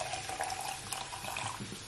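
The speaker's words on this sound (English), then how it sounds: "I'll just be pouring more of hot water" Hot water pours in a steady, continuous stream, fairly quiet and close, with no talk.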